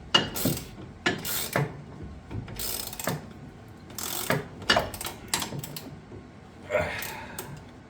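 Ratchet wrench clicking in short repeated bursts while tightening a nut on a shock absorber of a 1967 Dodge Dart, close and fairly quiet, several strokes separated by pauses.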